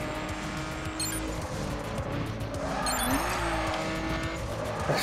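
A car driving fast in the racing game The Crew, steady engine drone with tire noise and a rising whine partway through, continuous and moderately loud with no talk.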